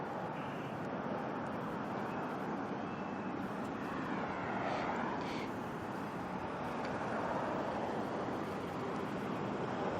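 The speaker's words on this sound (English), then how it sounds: "there's a plane in the air" A plane flying over near Auckland Airport gives a steady, broad roar that fills the whole stretch, with a slight swell midway and no voices over it.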